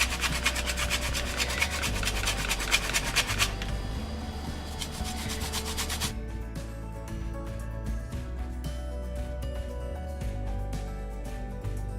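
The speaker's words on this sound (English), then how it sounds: "We only need the peel, not the juice. So I'm gonna grate it now." Lemon peel grated by hand, a steady rapid rasping scrape repeated in close, even strokes, loud and continuous, changing texture partway through.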